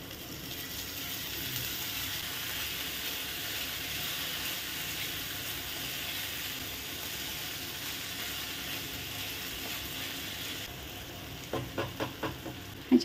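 Rice and mixed dal fry in an onion-garlic masala for dal khichdi, with a steady close sizzle throughout and a few scraping stirs near the end. No one speaks.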